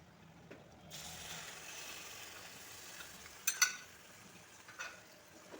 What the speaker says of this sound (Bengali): টক দইটা দিয়ে সঙ্গে সঙ্গে অনবরত নাড়তে হবে, নইলে দইটা ফেটে যেতে পারে